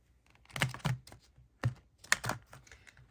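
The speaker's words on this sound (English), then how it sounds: "that was not a very good shuffle" A tarot card deck is shuffled, heard as a few quick, close, crisp riffling bursts with short pauses between, quiet and without talk.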